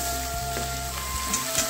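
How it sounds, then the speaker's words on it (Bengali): Ground shrimp paste fries in mustard oil in a pan, giving a continuous close hiss of sizzling with a faint hum underneath, brief and steady, with no talking. "চিংড়ি মাছটাকে একটু ভালোভাবে ভেজে নেব।"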